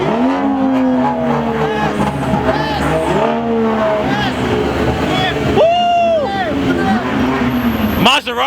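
At a crowded clean-culture car meet in New York City, a Maserati engine revs continuously with rising and falling pitch sweeps under loud, excited crowd voices and shouting.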